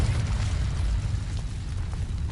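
Incendio fire spell cast in Hogwarts Legacy, a dense rumbling whoosh of flame that roars continuously and loudly from start to finish.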